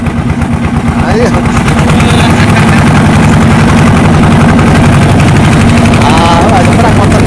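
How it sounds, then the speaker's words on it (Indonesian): A motorcycle engine idles loudly and close by with a steady throbbing rumble at a rural village crossing. Voices are faintly audible under the engine noise. "Nyebrang motor di tengah."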